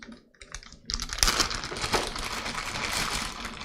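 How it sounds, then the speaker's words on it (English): Plastic bags holding screws for a PC build's Scythe Mugen 5 Rev C CPU cooler crinkle and rustle close up, with a burst of handling noise starting about a second in and continuing as a steady crackle. "I like how they put a plastic bag inside my plastic bag with a plastic bag inside"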